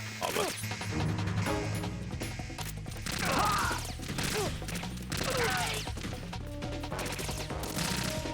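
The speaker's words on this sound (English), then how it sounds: "he shotgunned me in the face" Shotgun blasts in the stealth action game Metal Gear Solid 2, heard as sharp bursts amid dense game music and effects, with several loud impacts across the stretch.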